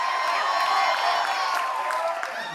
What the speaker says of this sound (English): I want you to give a round of applause for all of them